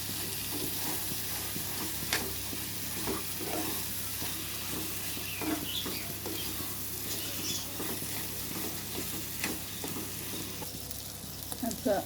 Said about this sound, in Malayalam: ഫ്രൈ ചെയ്തെടുക്കാം. കൈവിടാതെ ഇളക്കി കൊടുക്കണം, അല്ലെങ്കിൽ അടി പിടിക്കും.